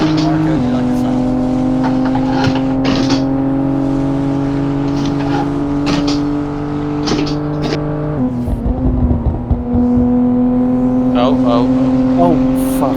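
A BMW M3 F80 CS engine in the Assetto Corsa driving game holds a steady loud drone, shifts pitch partway through, and rises with revving, with faint tire squeal and voices talking over it.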